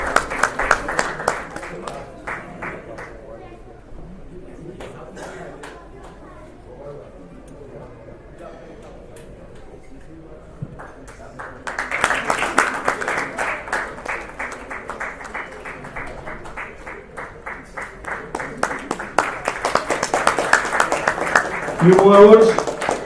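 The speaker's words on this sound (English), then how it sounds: "A bigger round of applause." Audience clapping at the award ceremony closing the International Doctor's T20 League in Dubai. It starts with light talk and sparse claps, then swells into steady, fairly loud applause that builds toward the end.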